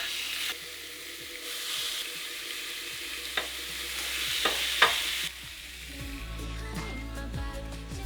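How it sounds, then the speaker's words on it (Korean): Steak sizzling on the grill plate of a Ninja air grill: a steady hiss broken by a few sharp pops, giving way to a lower mechanical hum near the end, with no talk. "그릴 플레이트에 스테이크 고기를 올려주세요"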